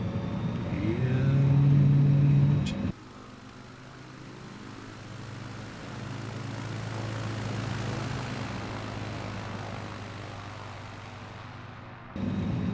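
Simulated Savage Cub light aircraft engine in Microsoft Flight Simulator 2020 during a takeoff run, a steady droning hum that rises after an abrupt cut near the start and holds through the roll, with no speech.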